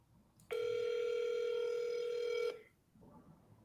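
A phone call rings out with one steady two-second electronic tone, loud and close, then drops to a quieter background hum.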